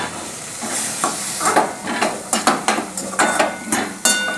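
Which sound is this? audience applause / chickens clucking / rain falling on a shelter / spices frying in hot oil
spices frying in hot oil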